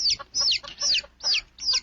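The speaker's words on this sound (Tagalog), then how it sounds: "Masuway ko balik pagbuhig mga manok." Chickens cluck close up in five quick, loud, evenly spaced bursts with no talking.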